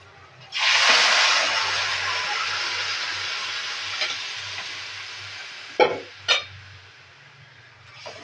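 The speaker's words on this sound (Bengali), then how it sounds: "এখন আমি বাঁধাকপিগুলো দিয়ে দেবো।" Chopped cabbage tipped onto browned fried onions in a pan, breaking into a loud, steady sizzle that slowly eases while being stirred, with a couple of sharp scraping knocks near the end.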